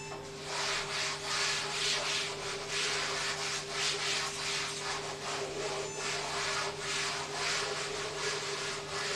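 Steady rhythmic rubbing of writing off a classroom board, a soft scratchy swish repeating back and forth throughout, fairly faint, with a faint constant hum underneath and no talk.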